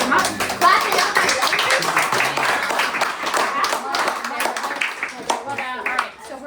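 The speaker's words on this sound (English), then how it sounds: "So come on. Clap it up." People at a team dinner clap for Lola, a lively scattered round of clapping with cheers and chatter over it, tapering off near the end.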